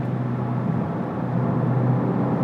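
A 2020 Volkswagen Golf GTI Mk8 is driven on the road, its engine a steady low hum heard from inside the cabin beneath broadband road and wind rumble, with no talk.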